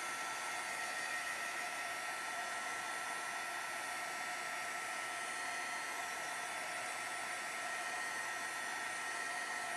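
A handheld heat tool blows continuously while drying masking fluid on a watercolor card, a steady, even rushing whoosh of hot air held close and unchanging throughout, with no talking.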